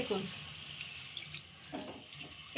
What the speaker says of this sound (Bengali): এবার আমি খুব অল্প পরিমাণে জল দেবো, দিয়ে এটাকে চাপা দিয়ে দেবো।